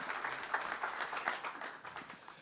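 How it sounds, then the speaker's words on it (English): Audience applause at a panel discussion on hydrogen, a soft, fairly distant patter of many hands clapping steadily for a couple of seconds. "also joining me in applause."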